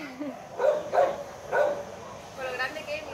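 A dog barks several times in short, sharp bursts nearby, followed by a softer whining yip, with people's voices faint in the background.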